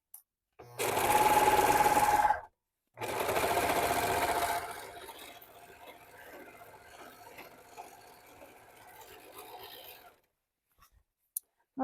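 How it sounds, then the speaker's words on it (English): Two loud bursts of sewing machine stitching run a half-inch seam on a rain coat, followed by a softer, longer stretch of mechanical whirring that fades out. "we're going to sew this one with a 1/2-inch seam"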